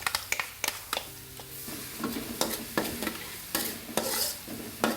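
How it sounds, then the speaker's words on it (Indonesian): Shallots and garlic sizzle as they are stir-fried in vegetable oil in a wok, a steady close frying hiss broken by repeated sharp scrapes and clanks of a spatula against the pan. "ini kita masukkan bawang merah dan bawang putih yang sudah kita kicang tadi"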